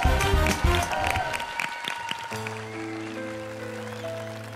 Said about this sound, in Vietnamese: Một tràng pháo tay nữa dành cho Lê Chánh Tín.